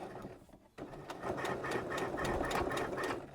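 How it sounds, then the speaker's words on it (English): A sewing machine running a twin needle along a folded hem starts after a brief pause, then hums steadily with a fast, even needle rhythm, close and clear. "now I am just going to start sewing"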